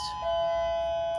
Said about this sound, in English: Okay, that's the doorbell.